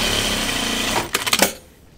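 Top stitching on a Dopp kit bag, a sewing machine hums steadily for about a second, then gives a few sharp mechanical clacks as it stops, leaving near silence.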